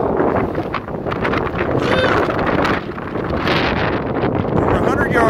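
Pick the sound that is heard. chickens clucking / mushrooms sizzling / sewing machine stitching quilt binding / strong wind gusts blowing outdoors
strong wind gusts blowing outdoors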